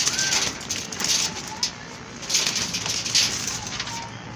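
Pigeons cooing softly and repeatedly against steady background noise, a few soft calls rising over a constant hum.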